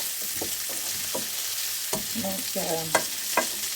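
Duck frying in salted butter in a pan, a steady close sizzle with stirring scrapes and clinks throughout, and a voice briefly speaking.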